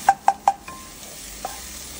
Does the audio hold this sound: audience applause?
no